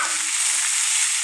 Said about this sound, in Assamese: পিঁয়াজখিনি যেতিয়া একেবাৰে পুৰা একদম গল্ডেন কালাৰ হয়, ৰঙচুৱা টাইপৰ হৈ যাব, তেতিয়ালৈকে আমি এইখিনি ভাজিম